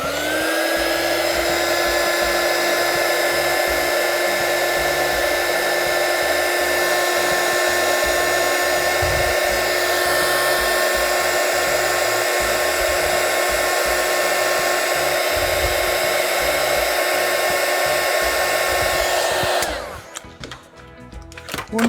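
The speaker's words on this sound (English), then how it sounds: "I'll grab my heat shrink tool and we'll shrink them" A handheld heat gun blows with a steady, loud whooshing whine while shrinking heat shrink tubing on a cassette recorder repair, running continuously for about twenty seconds before cutting off into light handling noise.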